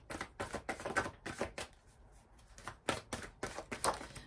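Oracle cards from a Cœur de Lune deck are shuffled in quick bursts of papery riffling and flicking, with a short quiet pause in the middle before the rapid shuffling starts again, close and fairly soft.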